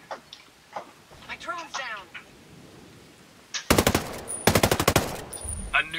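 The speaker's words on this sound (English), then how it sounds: "I hear gunfire." Rapid bursts of video game automatic gunfire, loud and close, follow a few seconds of voices talking, the shots coming in two sustained volleys.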